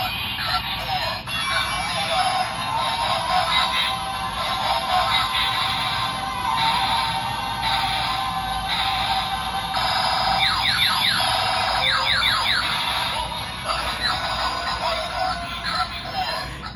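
A knockoff Ultraman Geed Sparklens toy blares loud, harsh electronic transformation sound effects, with chirping tones and buzzy synthetic noise running continuously, while someone talks over it.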